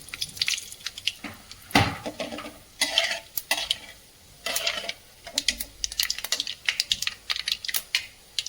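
Spoon stirring cumin and mustard seeds in a pan while tempering for potato sabji, a series of close scraping, clinking strokes with a light sizzle underneath, no talking.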